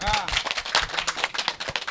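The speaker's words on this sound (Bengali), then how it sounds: "ওরা একটু হাততালি হয়ে যাক" A crowd claps at a cattle traders' gathering at Gabtoli cattle market, with brisk uneven applause from several people nearby and voices talking over it.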